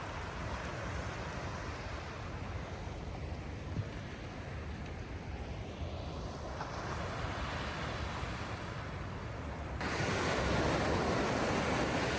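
Waves wash onto the sandy shore of Jeongdongjin beach as a constant broad roar, mixed with wind buffeting the microphone, and the noise swells louder near the end.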